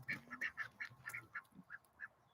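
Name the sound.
ducks quacking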